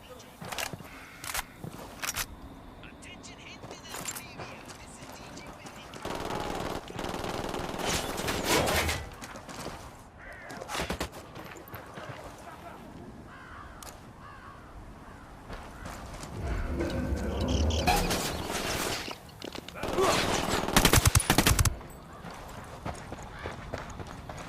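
Bursts of machine gun fire in a Tom Clancy Ghost Recon game, scattered rapid volleys rising and falling at a moderate level, with people talking over parts of the firing.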